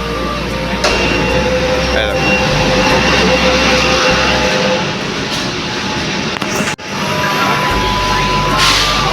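A Kolkata underwater metro train pulls in and stops at the platform, a loud continuous rumble and whine filling the station, with a brief break in the sound near the end.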